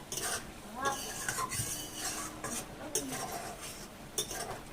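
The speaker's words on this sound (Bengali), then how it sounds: "জিরেটা দিয়েছি, এবার একটু নেড়ে নেবো।" Cumin seeds stirred in a pan with a utensil while cooking a vegetarian taro-root dish: soft scraping and light clinks against the pan over a faint background, with a few brief taps.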